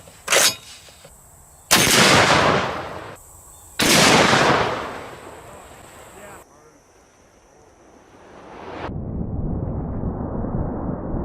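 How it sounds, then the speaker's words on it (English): A sniper rifle fires at an adjustable dumbbell target: one sharp crack, then two loud booming shots, each trailing off in a long echoing decay. A steady background noise follows. "I'm shooting closer than the rifle is sighted in at, so that probably has something to do with it."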